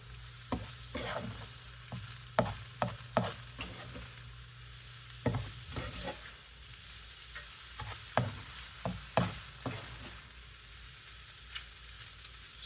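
Matzo and egg fry in butter in a pan with a soft, steady sizzle, broken by sharp clacks of a utensil stirring and scraping, heard close with no talking.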